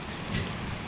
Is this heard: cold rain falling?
yes